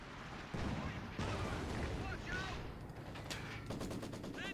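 A captured Maxim machine gun rattles off bursts in Company of Heroes 2 amid other battlefield gunfire, rapid loud volleys with a voice talking over the combat.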